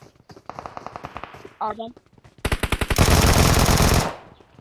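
Automatic gunfire in the PUBG Mobile video game comes first as a rapid burst, then as a louder and denser sustained volley. A brief spoken word sounds in between the bursts.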